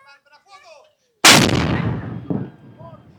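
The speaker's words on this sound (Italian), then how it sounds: "lo sparo del cannone è stato fortissimo e a Giulio gli tremavano le gambe." Brief chatter gives way to silence, then a single thunderous cannon blast booms close by at Piazzale Michelangelo in Florence and rolls into a long echoing rumble.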